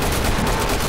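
Dense, continuous gunfire from the video game Killing Floor, a loud sustained barrage of rapid shots with no pauses across the whole moment.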